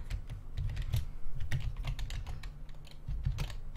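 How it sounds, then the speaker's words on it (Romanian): Rapid, irregular clicking of keys being typed on a computer keyboard during a SA:MP multiplayer game session, close and fairly quiet, with a low steady hum underneath and no one talking. "Mă cam bate tastatura ta"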